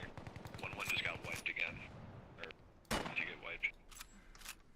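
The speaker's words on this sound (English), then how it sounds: "So get your grenade launcher out and just start throwing grenades." Grenade launcher fire in the multiplayer shooter Bellum, a few sharp booming shots and bursts at a distance under voice chat and muffled gameplay noise.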